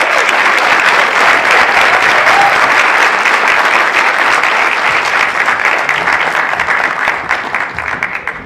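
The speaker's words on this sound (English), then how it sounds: "And let's give our outstanding teacher candidates another round of applause." Sustained, loud applause from an audience at an awards evening honouring teacher candidates, dense clapping that holds steady before thinning slightly toward the end.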